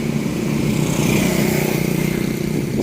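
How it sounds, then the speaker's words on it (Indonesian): Buzzing small engines of automatic motor scooters drone steadily nearby in a village, a continuous motor hum of scooters riding past without letting up. "kebanyakan motor matic semua atau motor skuter"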